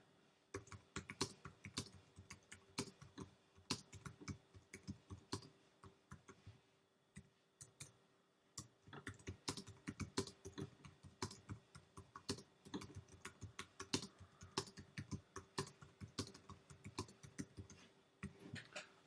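Steady typing on a computer keyboard, a quiet, continuous patter of key clicks with a brief pause midway, heard alone and close.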